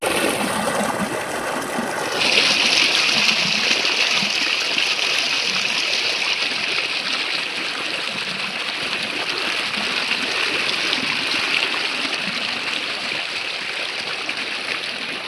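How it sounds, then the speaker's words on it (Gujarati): Continuous rushing water, loud and close, with a brighter splashing layer kicking in after a couple of seconds and running steadily to the end. "પાણી ચાલુ થઈ ગયું હે"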